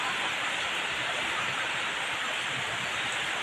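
Heavy rain falling suddenly in a hot-season downpour among neem trees, a dense, even hiss of steady rainfall, moderately faint and continuous with no voices.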